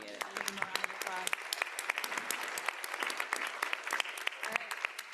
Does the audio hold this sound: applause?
yes